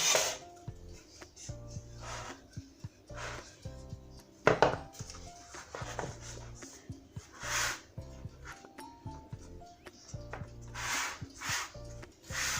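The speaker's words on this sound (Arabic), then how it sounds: "غنقادوها، كنحاولوا نقطعوا الزائد" Knife trimming surplus dough from a buttered, floured tart mould for a caramel nut tart, a series of light scraping cuts and taps in an irregular rhythm, close and fairly quiet.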